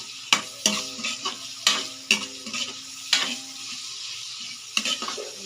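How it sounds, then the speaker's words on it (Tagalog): Tomatoes are stirred in a hot pan until their juice releases, with a spoon scraping and knocking against the pan in repeated close strokes over a soft sizzle and no talking. "Halo-haluin ng hanggang sa lalabas yung katas ng kamatis."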